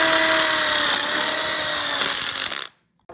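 A power drill drives a self-drilling hex head screw into a metal tube, giving a loud, steady whine that holds for nearly three seconds before stopping abruptly.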